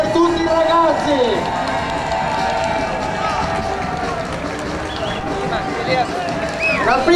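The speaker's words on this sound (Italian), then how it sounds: "Un forte applauso per tutti i ragazzi." Crowd applause at the opening ceremony parade of the Spain Trophy youth tournament in a stadium, broad and continuous for several seconds beneath an announcer's amplified voice.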